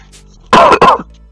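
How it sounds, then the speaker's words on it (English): A loud, close cough and throat clear made right into a microphone, two harsh bursts in quick succession. "coughing directly into the mic"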